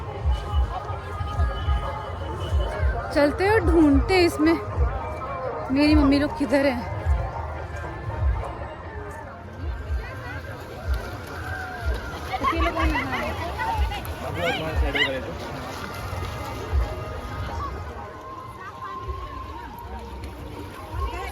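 A large crowd mills around at the Chhath Puja festival in Bihar, a dense babble of many voices and footsteps near water, with a close voice talking over the general hubbub.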